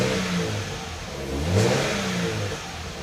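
A Subaru BRZ with a Flashark full catback exhaust revs, the engine note rising and falling in one swell before settling, close by with no voices.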